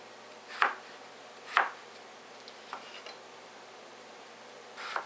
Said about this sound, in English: I'm going to use my trusty Paladine knife that I got from Walmart. And what I do is I just cube the potatoes.